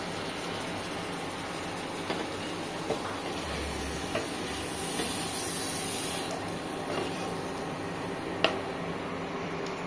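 Chicken pieces hit a hot pan with oil and spices and settle into a steady, moderate sizzle, with occasional stirring clicks and scrapes throughout.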